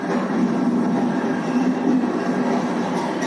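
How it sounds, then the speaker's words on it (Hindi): A miniature diesel goods train of 20 wagons, some of them tankers, rolls past at a rail museum as a steady, close rumble with a low drone and no clear wheel clicks. "वहाँ देखो, मालगाड़ी चल पड़ी है। डीजल गाड़ी है, 20 डिब्बों वाली।"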